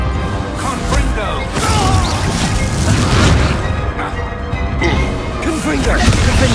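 Confringo blasting curse explosions go off in Hogwarts Legacy, heavy booming blasts and crashes rolling one after another with game effects, loud and dense throughout, while a voice shouts over them.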